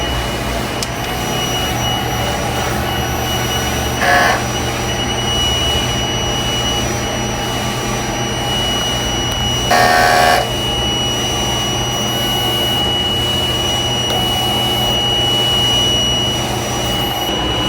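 A large-format sublimation printer runs its head-cleaning cycle, a steady mechanical drone with a faint constant tone, broken by two brief louder bursts of motor or pump noise near the start and middle.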